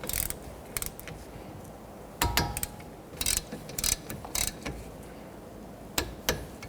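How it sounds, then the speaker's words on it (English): Bolts on a front brake dust shield of a 1992-1996 Toyota Camry being tightened with hand tools, irregular bursts of metallic ratcheting clicks separated by short pauses, close and moderately loud, with no talk. "we're going to tighten these down and then torque them to 25 foot-pounds"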